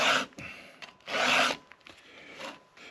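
A file rasps across a chainsaw chain set in a 2-in-1 filing guide, two or three close strokes, each a bright scraping burst with short pauses between.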